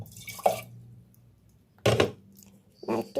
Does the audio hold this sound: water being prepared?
yes